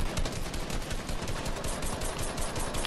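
Gunfire in a video game, dense rapid bursts of automatic shots crackling continuously and loudly with no talk over them.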